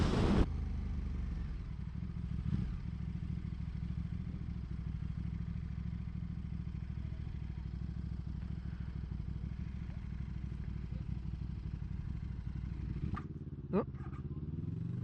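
A KTM motorcycle rides close behind, its engine a steady, rumbling drone that runs nearly unbroken through the whole stretch, loud and near, with a brief rise near the end.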